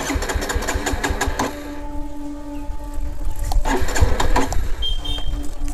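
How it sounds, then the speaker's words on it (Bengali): Hero Xtreme 125R motorcycle engine cranking over without catching, a rough mechanical churning with repeated pulses, a brief lull, then another cranking attempt, close and fairly loud. "এই বাইক স্টার্ট হচ্ছে না।"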